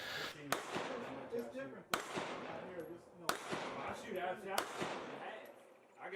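Pistol shots on an IDPA shooting course, four sharp, loud cracks spaced about a second and a half apart, heard under continuous talk.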